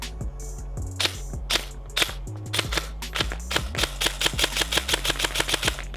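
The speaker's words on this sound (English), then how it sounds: "I just love the sound of the gearbox. It just sounds so smooth cycling." G&G MCP 556 airsoft AEG rifle firing at close range, its gearbox cycling with crisp mechanical whirs and snaps, first single shots and short bursts, then a faster steady string of shots.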